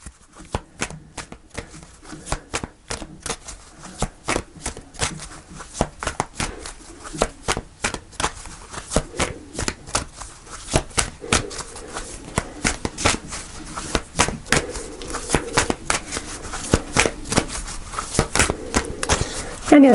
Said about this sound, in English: I'm going to pull one more card for the day.